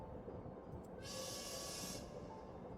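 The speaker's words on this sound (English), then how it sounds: "the shudders of the train grow stronger as we begin to slow down" A train in the video game Heart of the Woods rumbles low and steady, then slows. A brief burst of hiss rises over the rumble partway through. The whole sound stays quiet.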